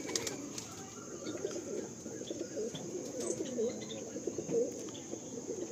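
A male Madrasi pigeon in a loft coos softly amid faint wing flutters and an insect-like background hum, the low throaty calls recurring quietly at a short distance.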